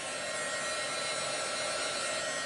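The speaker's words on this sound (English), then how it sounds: "I'm just going to use this and give this a quick blast of heat." A heat tool blasts hot air over a chalk transfer, a steady, close whooshing drone with a faint whine, unbroken and with no voices.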